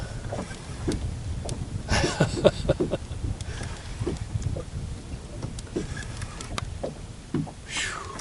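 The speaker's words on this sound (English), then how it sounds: "That wind is cold, y'all. Just cut right through you." Cold wind buffets a boat out on the water during a catfishing trip, producing low, gusty rumbles with scattered knocks and rattles nearby.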